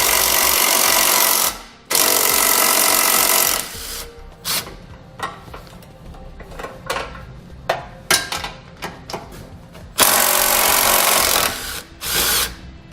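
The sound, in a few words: removing crossbeam bolts with a 14mm socket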